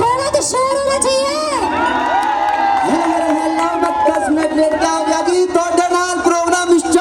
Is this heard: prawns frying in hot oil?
no